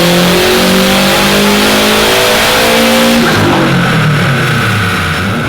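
A Subaru WRX fitted with an STI engine swap revs hard on a dyno, a loud, close engine note climbing steadily in pitch, then dropping sharply as the throttle lifts and the revs fall away.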